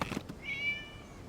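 A cat meows once in the video game Genshin Impact, a short, fairly quiet mewing cry, drawn out and wavering, that stands alone after a soft thud.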